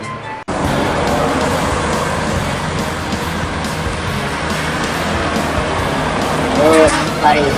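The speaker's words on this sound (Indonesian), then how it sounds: "Bus pariwisata dari arah Jakarta menuju ke arah Solok." A tourist bus travels along a road, its engine and road noise forming a steady, fairly loud rumble close by, with brief voices and a horn-like tone near the end.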